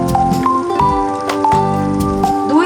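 Cashew paste going into a thick chicken curry masala, with wet squelching plops and drips over a tonal background hum, close and loud.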